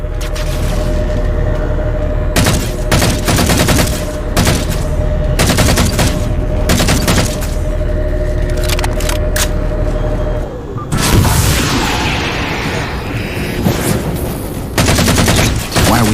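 Heavy combat in Halo 4 roars on throughout: dense bursts of automatic gunfire, booming impacts and explosions pile up loud and continuous, with short lulls between volleys and no speech.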